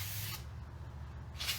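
Two short, close bursts of hissing aerosol spray during brake repair on a Mercedes-Benz C240, with a quiet gap between them and no talking.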